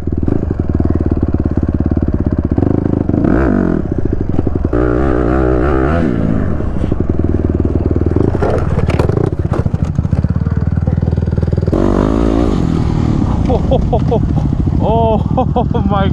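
A motorcycle being ridden in slow turning wheelies, its engine loud and close throughout with repeated revs and throttle surges, plus clattering and a few shouts or voices mixed in.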